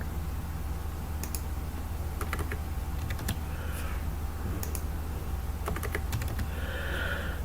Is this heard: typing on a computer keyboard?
yes